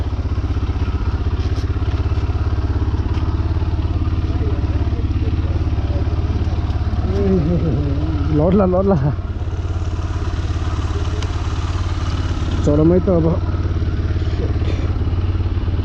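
A motorcycle rumbles continuously at close range during a ride toward Dupcheshwor Mahadev, Nuwakot, its steady low drone running under a voice that speaks briefly twice.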